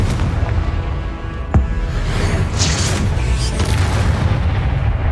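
A Confringo blasting spell goes off in the Hogwarts Legacy video game, a loud booming explosion with a sharp crack followed by rumbling debris and bursts over a steady game soundscape.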